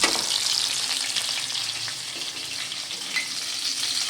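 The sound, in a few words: hilsa fish frying in oil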